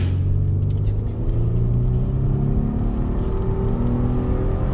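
A heavy Nissan Murano with a CVT pulls away from a standstill, its engine a steady low rumble and drone that holds through the whole stretch with no clear gear changes and no talk over it.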